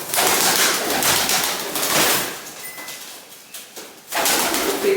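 A rescued pigeon coos close by while mating, with wing flutters and rustling. The sound swells loudly, fades, then rises again near the end.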